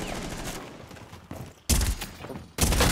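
Gunfire in the video game Rainbow Six Siege breaks out in two loud, abrupt bursts of rapid shots after a quieter stretch of faint in-game noise, close and harsh with no talking.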